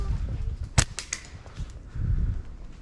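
A catapult shot while hunting with a Harris hawk and lurcher outdoors: a sharp snap, then a few quick fainter cracks and rustles, against low background rumble.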